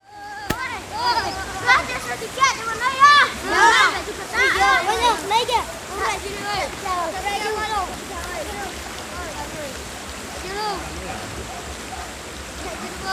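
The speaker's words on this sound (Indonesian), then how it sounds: "Akhirnya sampai juga di sungai." Children's voices chatter and shout over a steady wash of river water flowing and splashing nearby as a mosque mat is carried to the river and washed, the water continuing beneath the talk throughout.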